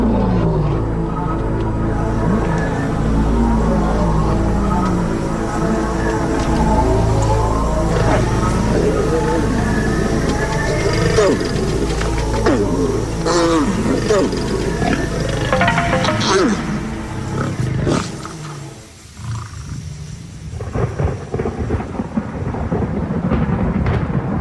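A lion and lioness mate in the wild, producing deep rumbling growls and roars that rise and fall over about twenty seconds while a voice talks over them.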